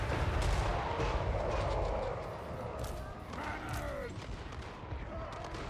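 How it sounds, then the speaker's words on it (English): Cannon and artillery fire rumbles through a Total War: Warhammer 3 battle, with dense, continuous booming and crackling gunfire mixed into loud battlefield noise, and a voice talking over it. "I'm thinking about starting to tag up Kolek with the cannon"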